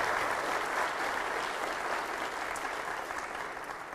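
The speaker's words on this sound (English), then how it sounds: "Let's give them another round of applause." An audience at a mayor's State of the City address gives a sustained round of applause, a steady dense wash of many hands clapping that slowly tapers over several seconds, with no talking.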